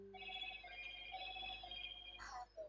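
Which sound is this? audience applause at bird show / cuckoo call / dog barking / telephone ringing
telephone ringing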